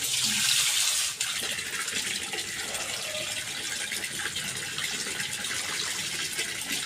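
Water runs from a tap into a vessel for rinsing rice before making sakinalu, a steady gushing flow that starts loud and settles into an even, continuous pour with no voices.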